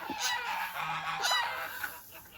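A large flock of young white heavy-breed ducks on a farmstead gives loud, overlapping honking quacks close by, in several rough bursts.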